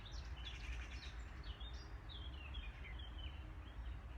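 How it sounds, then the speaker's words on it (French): Birds singing outdoors in a pleasant open space, with faint, scattered chirps and short whistled phrases over a low steady background rumble. "on profite du chant des oiseaux dans cet espace qui est très très agréable"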